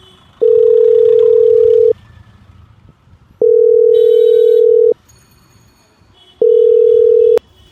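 A telephone on a call gives three long, steady ringback tones with short silent gaps between them, loud and close, plus a faint higher beeping between the second and third tones.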